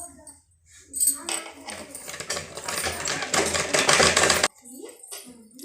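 A sewing machine runs in quick rattling bursts, stitching a half-inch seam in fabric for a beginner's blouse, the whirring clatter building and then stopping abruptly near the end, followed by quieter handling sounds.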